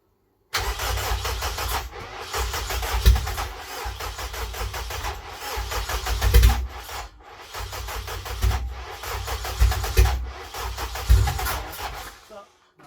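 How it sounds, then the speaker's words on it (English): A K-swapped Honda Civic EJ9 engine cranking over repeatedly without firing, a loud, close, rhythmic starter churn in several long bursts separated by brief pauses, with people talking over it. "just keep cranking it"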